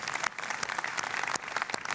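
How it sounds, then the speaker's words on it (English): Audience at a developer conference keynote gives a short round of applause, with scattered, fairly distinct claps over a brisk, moderate patter from a large room. "I got some applause here."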